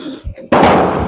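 Pistol gunfire at a shooting range: a single sharp report cracks out midway and trails into a broad, sustained roar of echo, preceded by a quiet low rumble.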